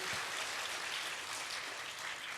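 Applause from a church congregation during a Wednesday evening service, a steady dense patter of many hands filling the space evenly from start to finish.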